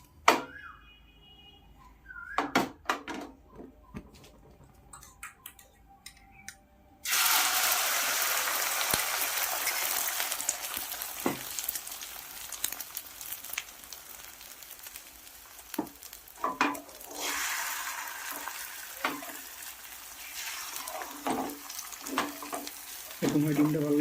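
A quiet kitchen with a few faint clicks gives way to a sudden loud sizzle as an egg drops into hot mustard oil, the crackling frying then continuing steadily and close for the rest.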